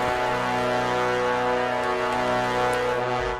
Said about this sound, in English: Just the trombones right now.